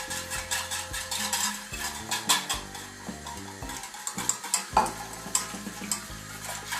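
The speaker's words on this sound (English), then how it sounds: "And keep on stirring, and now 3 tablespoons of cornstarch." Cocoa powder being stirred into a dessert mixture for a children's worms-in-dirt treat, with repeated scraping and clinking of a utensil against the bowl in an uneven rhythm, close and fairly loud.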